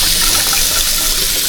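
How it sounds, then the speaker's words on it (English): Cruise cabin bathroom faucet on a Carnival Radiance ship running hard with strong water pressure, a steady loud rush of water that holds throughout with no talking. "faucet water pressure is really good"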